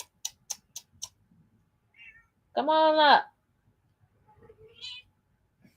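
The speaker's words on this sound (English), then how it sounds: "This is my kitty, y'all." A pet cat gives one clear, drawn-out meow close by, set between brief bits of a woman's speech and soft calls before and after.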